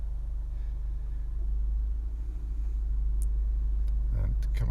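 A 2.0 i-VTEC Honda CR-V SE 4x4 idles with a low, steady engine rumble inside the cabin, while someone speaks over it near the end with a few faint clicks.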